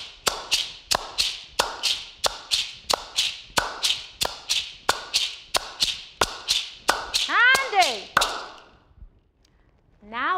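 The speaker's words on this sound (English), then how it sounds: "Then on top of this clap layer, we add the hosho rhythm." Sharp, evenly spaced hand claps repeat steadily with a shaking hosho gourd rattle layered on top, close and clear, followed by a brief pause and a short sung phrase at the end.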